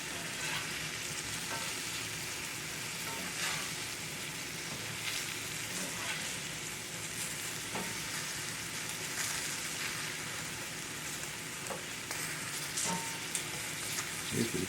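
Southern-style okra fries in a single layer in a pan, a soft continuous sizzle and crackle with occasional stirring clicks, steady and fairly quiet throughout.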